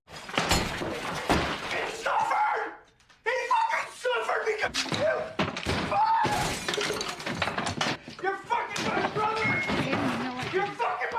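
A man smashes household furniture indoors, with repeated sharp crashes, shattering and heavy thuds breaking out irregularly, a brief lull in between, under a voice speaking over the noise.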